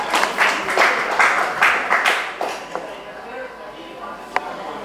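Scattered applause from a class of eighth-grade students during a classroom chemistry quiz, a short burst of claps that quickly thins out into a few isolated claps.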